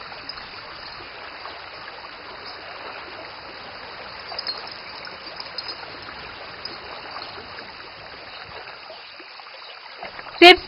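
Oars dip and paddle through water beside a boat, with a steady wash of splashing and flowing water throughout and a sharp knock near the end.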